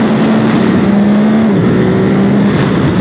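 A 2021 Ducati SuperSport 950 S motorcycle engine drones loud and close on a racetrack, a sustained steady hum with slight shifts in pitch.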